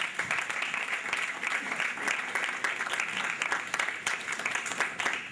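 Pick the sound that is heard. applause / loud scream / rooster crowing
applause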